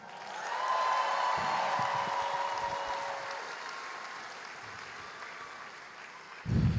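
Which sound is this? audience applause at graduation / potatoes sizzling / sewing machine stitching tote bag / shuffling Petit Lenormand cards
audience applause at graduation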